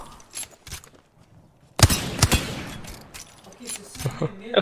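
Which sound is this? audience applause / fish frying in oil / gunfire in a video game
gunfire in a video game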